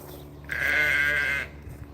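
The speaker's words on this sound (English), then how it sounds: "Looks like the sheep are all down the bottom of the pasture." A single sheep bleats once in a pasture, a loud, steady, nasal cry lasting about a second against quiet outdoor background.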